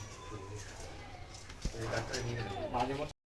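Soft cooing of Pakistani-breed pigeons kept for sale repeats in the background, with a single sharp knock partway through and a steady low murmur throughout.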